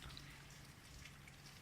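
Rain falls on a cold day over an organic no-dig allotment garden, a soft, steady patter with scattered faint drips and no voices.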